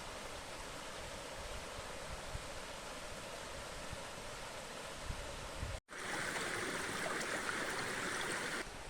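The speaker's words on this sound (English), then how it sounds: "I just had a moment with the little river, little waterfall" A small river and little waterfall flow steadily on a mountain pilgrimage trail in Galicia, a broad continuous rush of water close by, briefly cut out and then returning louder and brighter.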